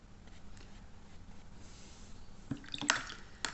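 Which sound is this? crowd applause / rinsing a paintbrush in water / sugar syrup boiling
rinsing a paintbrush in water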